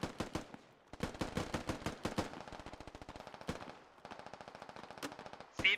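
A .50 calibre machine gun fires in the military shooter game Squad, loud rapid bursts of heavy rounds with brief pauses, then a longer steady stream of shots followed by a final sharp report.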